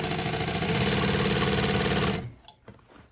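A sewing machine runs a steady, fast stitching whir for about two seconds while sewing a letterman jacket patch seam, then stops, leaving a few light clicks and handling sounds.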